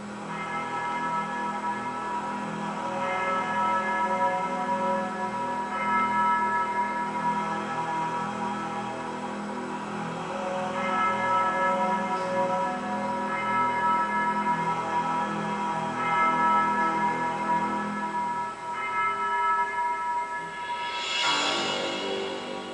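A monastery bell rings with sustained, overlapping tones that hum and decay over a long stretch, softly ringing at moderate distance with a brighter strike near the end.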